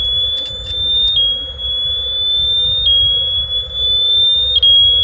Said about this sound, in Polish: po chwili będzie alarm